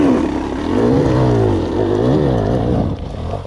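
A dirt bike engine on a wooded trail revs steadily and loudly, its pitch rising and falling as the rider works the throttle and feathers the clutch, with the note continuous and close throughout.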